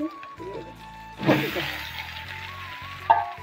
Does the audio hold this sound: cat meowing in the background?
no